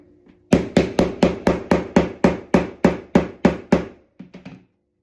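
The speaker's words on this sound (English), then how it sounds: "Hammer it down." A hammer drives a magnet into a laser-cut wooden backgammon board: about twelve sharp, evenly spaced knocks in quick succession, loud and close, followed by a few lighter taps.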